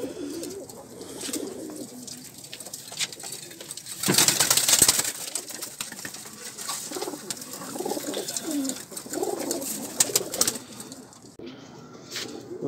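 Pigeons coo repeatedly in a loft, with soft throaty calls overlapping throughout and a brief burst of wing flapping or rustling near the middle.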